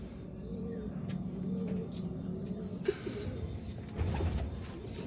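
Tournament pigeons in West Bengal coo in low, repeated murmurs that run steadily under a constant outdoor background hum, with a few brief knocks between the calls.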